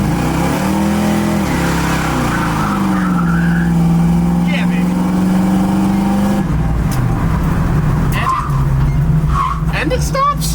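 A revived Ford Mustang is driven with the engine close to overheating, and its engine hums loud and steady with rising and falling revs. Speech runs over it, and scraping and knocking noises come in toward the end.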